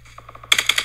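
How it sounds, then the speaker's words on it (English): Gunshots in the video game PUBG ring out as a rapid burst of sharp cracks, faint quick pops at first, then five louder, closer shots in an even rhythm. "I heard gunshots over here."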